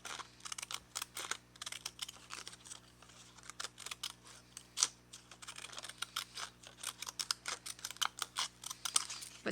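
Jagged-edge craft scissors cut through scrap paper for a collage, making a rapid series of crisp snips and crunchy clicks, close and dry, with steady rhythmic bursts and no talk.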